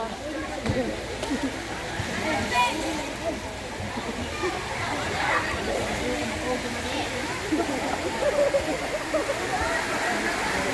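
Spring water rushes and splashes continuously nearby at Cambuhawe spring, a steady flowing babble, with a person talking over it throughout.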